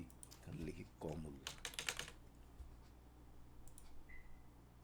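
Quick bursts of keystrokes on a computer keyboard as a name is typed into a spreadsheet search box, faint and close, clustered in the first two seconds with quieter taps later and brief speech mixed in.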